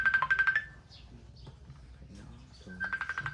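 A phone ringtone plays in short chirpy bursts at the start and again near the end, fairly quiet under background room noise and faint voices.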